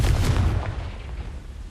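The Confringo explosive spell in a Harry Potter video game goes off as a deep, booming blast that fades into a low rumble over under two seconds.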